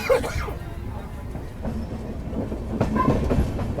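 LHB Himachal Express train running on rails from Delhi, a steady rumbling clatter of wheels heard from inside a coach, with faint squeaks and knocks over the continuous roll.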